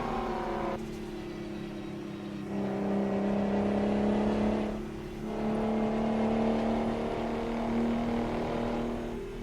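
Race-car-like truck engine and exhaust in a trucking video game, a steady droning hum that dips briefly twice before surging back louder, continuous and close with no talk.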